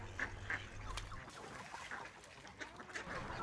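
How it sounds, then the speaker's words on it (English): Swans call in a few short nasal honks at a moderate distance by the water, spaced irregularly over a quiet outdoor background. "It's great that the swans are back together."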